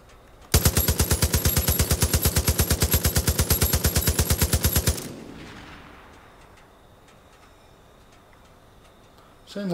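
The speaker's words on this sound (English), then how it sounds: "Might jump back on the mounted gun for a bit." A mounted machine gun in the Far Cry 5 video game fires a long, rapid, loud burst of evenly spaced shots for about four seconds, then stops and leaves a fading echo and quiet ambience.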